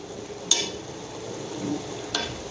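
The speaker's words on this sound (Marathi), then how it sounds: "मी कमी गॅसवरच तळून घेते" Sweet jaggery gulgule fritters frying in oil on low heat give off a steady, soft sizzle, with two brief metallic clinks of a utensil against the pan.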